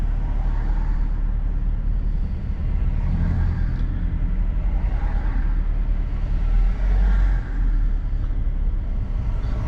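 Heavy road traffic passing on a busy street during a driving lesson in Rochdale, a continuous loud rumble of car and bus engines swelling as vehicles go by close to the car, with no talk.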